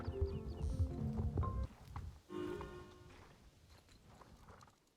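Clip-clop of horse hooves in a video game, a steady run of hoofbeats over a busy, layered game soundtrack, fading after a couple of seconds into quieter steps and ambience.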